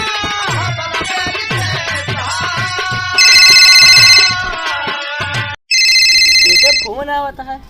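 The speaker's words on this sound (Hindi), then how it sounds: "फोन आवता है" A mobile phone ringtone sounds in two bright, loud bursts over background music and chatter in a village comedy sketch, with a brief gap between the rings.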